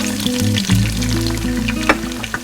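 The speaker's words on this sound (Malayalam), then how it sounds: "എണ്ണ ചൂടായിട്ട് നമുക്ക് സവാള ഇട്ട് കൊടുക്കും." Sliced onions drop into hot oil and fry with a steady, close sizzle and crackle, a low rumble swelling as they hit the pan, with a few sharper spits near the end.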